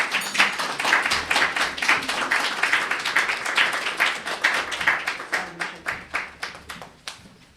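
An audience claps in rhythmic, fairly close bursts, lively at first and thinning to scattered claps as the applause fades out.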